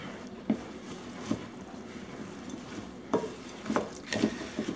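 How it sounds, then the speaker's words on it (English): A spoon stirs oats into a homemade granola mixture in a bowl, heard as soft continuous scraping and rustling with several louder scrapes, close and unaccompanied by talk. "And now we're just going to mix it in."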